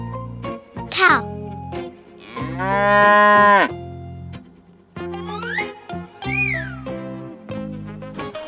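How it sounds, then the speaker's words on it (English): Cattle lowing in several drawn-out, loud moos with pitch sweeps, close and alone, separated by short pauses and mixed with a few shorter bleat-like calls. "Cow."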